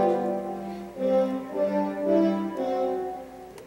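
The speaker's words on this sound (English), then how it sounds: "French horns sound like this." A French horn section plays a sustained, swelling phrase of several held notes from an orchestral accompaniment track, warm and full, rising and falling in loudness with no talking.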